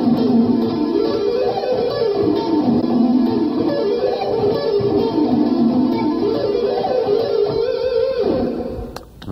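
An electric guitar plays a continuous pentatonic blues scale run in rock style, with notes flowing steadily up and down, loud and alone before fading at the end.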